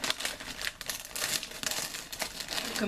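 A resealable Oreo cookie packet is peeled open, giving a steady, close crinkling and tearing of plastic film that lasts about three seconds with no voices.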